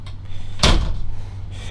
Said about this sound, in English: Got a solid sliding door for privacy.